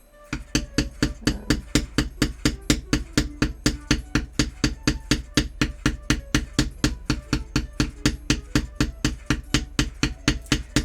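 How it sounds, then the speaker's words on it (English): A hammer taps steadily on leather being shaped into cosplay armor, dozens of light, even, evenly spaced knocks in a brisk continuous rhythm, close and clear with no talking. "I'm not like slamming this hammer down, as you can see."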